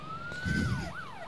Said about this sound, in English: Turn on the siren.